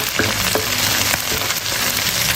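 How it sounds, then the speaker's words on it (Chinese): Chili bean paste (doubanjiang) fries in hot oil in a wok with a steady, dense sizzle and faint crackles, close and loud throughout. "放一勺豆瓣酱，炒出红油"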